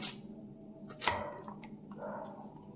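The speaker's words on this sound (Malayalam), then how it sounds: "ഈ വലിപ്പത്തിൽ അരിഞ്ഞെടുത്താൽ മതി." A knife cuts raw plantain into small pieces for Kerala thoran, giving a few sharp, close chops with a distinct loud strike near the middle and quieter cutting sounds around it.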